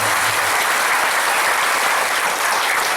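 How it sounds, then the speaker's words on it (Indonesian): A crowd at an Islamic tabligh akbar religious gathering in Incheon claps loudly and continuously, a dense unbroken wash of many hands. "Tepuk tangan dulu buat saya."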